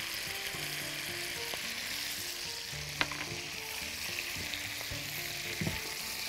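Garlic frying in a pan gives a steady, close sizzle that runs throughout, with a few light clinks of a utensil stirring, and no one speaking.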